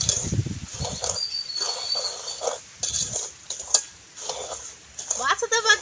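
Plums, peanuts and ginger are stirred in a pot over ghee, with scattered clinks and scrapes of a spoon against metal, fairly close and moderately loud, broken by short pauses.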